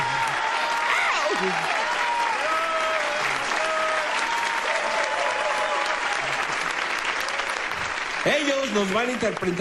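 Studio audience applauding on a TV show, sustained clapping filling the whole stretch, with a voice and some music-like tones heard faintly over it and a brief louder voice near the end.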